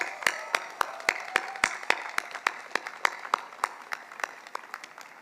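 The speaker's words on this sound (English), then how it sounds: "Perhaps we should give a big round of applause to us." Applause from the audience at a university convocation ceremony, with a few loud, distinct nearby claps standing out rhythmically over a softer background of many hands clapping, and no talk.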